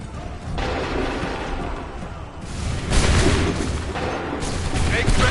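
Musket volleys fired by a line of soldiers in Assassin's Creed 3, dense loud crackling bursts rolling over a constant roar of battle, with shouted commands mixed in.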